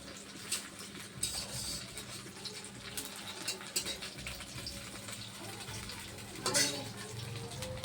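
Banana flower fritters fry in oil with a busy, crackling sizzle that continues throughout, punctuated by occasional scraping and clattering from a utensil.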